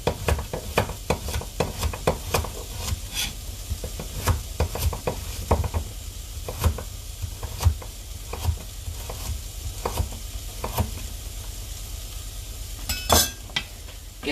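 Onion and garlic sizzle steadily in a hot pan for pasta sauce, with repeated scraping stirs and light clinks of a utensil against the pan, close and fairly quiet, with no talking.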